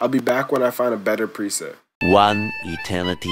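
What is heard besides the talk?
No distinct noise like a dog, phone or traffic.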